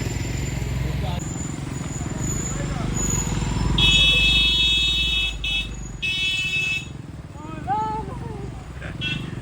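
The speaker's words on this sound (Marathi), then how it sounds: "बघू शकता फुल ट्रॅफिक झालेलं आहे." Heavy road traffic at Matheran, with motorcycle engines running close by and several loud car horns honking in bursts over a steady rumble of vehicles. Voices can be heard among the traffic.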